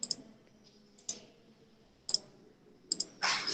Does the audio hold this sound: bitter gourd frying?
no